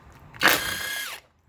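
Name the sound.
impact tool removing strut nuts on Tesla Model 3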